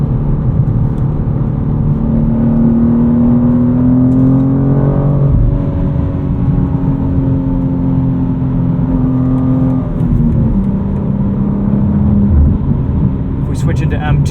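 A 2025 BMW M2 with a six-speed manual driving on the road, its engine droning steadily with a rising and falling pitch as it accelerates and shifts, loud and close, with someone talking over it.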